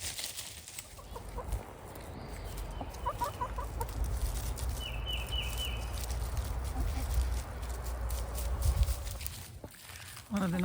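Free-range chickens cluck and chatter outdoors in short bursts among footsteps and rustling, while a voice talks over them at moderate distance.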